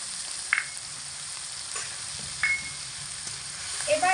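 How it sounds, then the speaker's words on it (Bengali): Ground turmeric, coriander, cumin and chili powder with a splash of water sizzle steadily in a pan for chickpea ghugni, a constant hiss with a few brief clinks and scrapes of stirring. "গুঁড়ো মশলা দিয়ে অল্প করে একটু জল দিয়ে দেব।"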